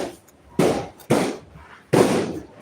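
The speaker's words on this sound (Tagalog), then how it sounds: "And fireworks everywhere na." New Year fireworks burst in three loud, sharp cracks spaced about half a second apart, each trailing into a brief crackling decay, with no talk.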